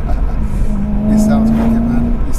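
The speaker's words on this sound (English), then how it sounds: "This exhaust and your rev matching and everything" A 450 bhp track-ready BMW M3 revs hard through its exhaust, a loud, rising engine note held steady close by, with a voice talking faintly over it.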